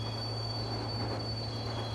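Locomotive running in the Indian Train Simulator mobile game, a steady low rumble with a constant high whine, heard alone at even loudness.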